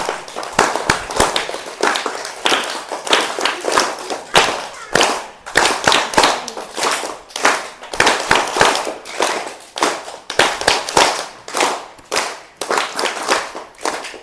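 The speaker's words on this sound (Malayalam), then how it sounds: "ഞാനൊരു താളത്തിൽ കയ്യടിക്കാം, നിങ്ങളൊന്ന് കയ്യടിക്കണം കേട്ടോ." An audience clapping hands together in rhythm, loud sharp claps in repeated bursts and pauses that follow a leader's beat, filling the whole stretch with little talk.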